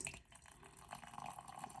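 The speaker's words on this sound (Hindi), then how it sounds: "इसमें डालेंगे थोड़ा सा पानी" Warm water being poured into a bowl holding half a chicken stock cube, a soft, close, trickling splash that runs steadily for a moment, with no talking.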